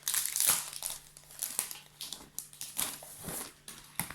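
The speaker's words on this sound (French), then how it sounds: "je vais décorer ma pochette en collant quelques petits autocollants" Small decorative stickers are peeled from their backing and pressed onto an Alice-themed tea pouch, giving close, soft crinkling and papery rustles in quick, irregular bursts.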